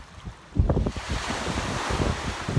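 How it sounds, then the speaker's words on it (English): Waves wash onto a Michigan lake beach with a continuous rushing roar that swells after a quieter first half-second, mixed with gusty wind buffeting the microphone. "you can find a beach like this along the water in Michigan"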